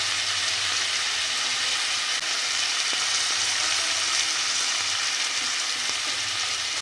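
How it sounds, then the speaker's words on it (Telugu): Chopped tomatoes frying in a pan, giving a continuous, even sizzle with a steady hiss, close and moderately loud, with no talk over it. "టమాటాలు కూడా 2 నిమిషాలు మగ్గాలి."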